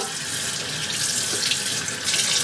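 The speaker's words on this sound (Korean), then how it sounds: "이제 생선을 씻어 오도록 하겠습니다" Water runs steadily from a kitchen tap into a sink while a flounder is rinsed, a loud, close, continuous splashing rush with no speech.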